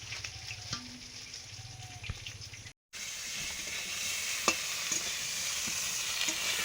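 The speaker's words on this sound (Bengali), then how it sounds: "মাছের মাথা ভাজা হচ্ছে" Fish heads frying in hot oil, a fairly faint steady sizzle with occasional spatters and clinks of a spatula, cut by a brief gap before the sizzling returns brighter.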